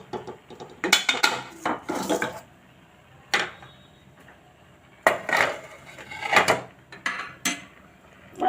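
Metal lid clatters back onto a pan of cooking eggplants, with several sharp clanks and scrapes spaced through the moment, close by and with no talking.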